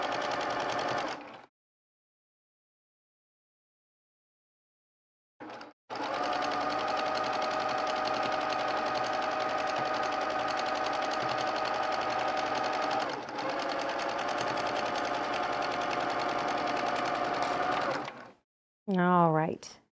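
A sewing machine stitches the seams of a quilted pillow cover with a steady, close, whirring hum, running for several seconds after a silent pause, then stopping.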